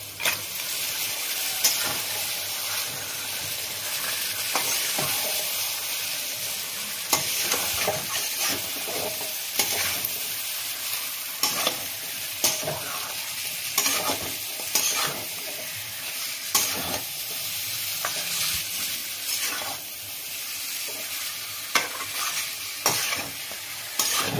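Goat meat tipped into fried spices in a pot, sizzling hard while being stirred, with repeated scraping strokes and bursts of crackle over a continuous hiss, close up and without voices.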